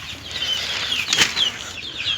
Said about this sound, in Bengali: এখানে দেশি মুরগি রয়েছে, টাইগার মুরগি রয়েছে, ফাউমির মুরগি রয়েছে।